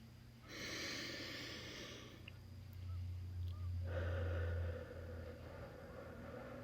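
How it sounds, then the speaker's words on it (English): A slow, deep breath taken in and let out during a guided calm moment, soft airy inhale and exhale close to the ear over steady low background hum, with no talking. "Please, take a slow, deep breath."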